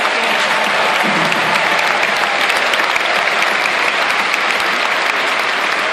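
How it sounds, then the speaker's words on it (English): An audience gives a big round of applause for a nutrition scientist, a thick, uniform roar of many clapping hands that stays loud and unbroken throughout. "How about a big round of applause for Dr. Angela Mastalugas?"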